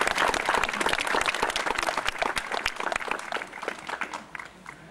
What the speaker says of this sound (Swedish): ge dem en liten applåd.